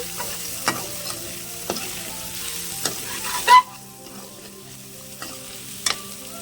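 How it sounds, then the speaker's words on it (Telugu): Meal maker soya chunks fry in oil for a village-style tomato curry, a steady low sizzle broken by sharp utensil scrapes and taps, one louder clatter partway through and the frying quieter afterward. "వీటిని కూడా కొంచెం నూనెలో వేయించుదామండి, బాగుంటుంది."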